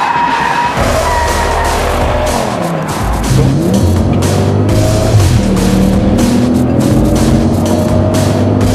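An Audi RS6 accelerates hard, its engine roaring loud and close as it climbs through the gears with pitch sweeps and brief dips at the shifts, a constant dense rumble throughout.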